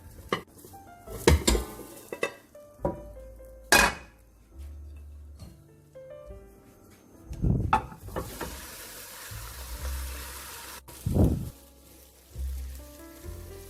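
Egg with bacon and mushroom stir-fried in a wok, with scattered clanks and scrapes of a spatula on metal over a soft sizzle, the knocks irregular and close.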